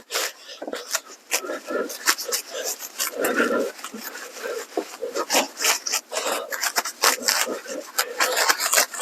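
A brush scrubs Armor All wheel cleaner into car wheel spokes in rapid, uneven rasping strokes, close and fairly loud throughout.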